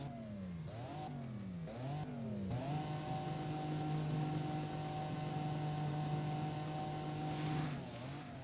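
Alfa Romeo GTAM with a twin-turbo V6 in a video game, revving in quick rising bursts through the gears, then holding one steady high-pitched drone for several seconds before shifting again, loud and close with no voices.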